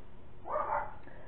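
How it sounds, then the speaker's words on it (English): A dog gives a short, muffled bark somewhere in the background of an indoor room, a single faint burst lasting under half a second, from a household with several dogs. "Sorry for all the barking."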